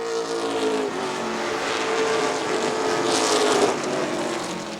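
Pro stock cars racing wheel to wheel for third on an oval track, engines roaring loudly and continuously as the pack passes close by, the pitch shifting as they sweep past, with no talk.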